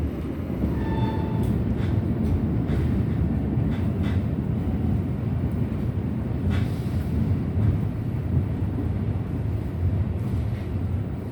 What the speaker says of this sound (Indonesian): sesaat lagi kereta api Ranggajati akan masuk stasiun Kertosono